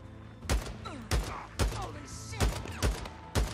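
Gunfire in the game Days Gone: about seven sharp, loud shots fired in an irregular rapid sequence, each with a short echoing tail.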